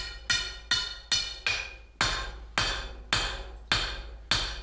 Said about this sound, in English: So I'm just going to do the old pound it on the anvil